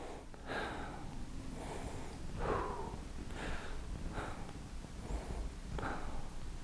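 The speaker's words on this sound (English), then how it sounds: "breathing normally like this" Steady, controlled breathing during weight lifting, with about six evenly spaced breaths close to the microphone over a constant background hiss.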